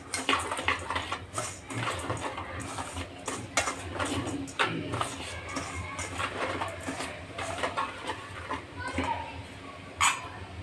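Sugar being mixed into a bowl for a patishapta crepe batter, with repeated clinks and scrapes of a utensil against the bowl in an irregular rhythm, close and moderately loud, with faint background voices.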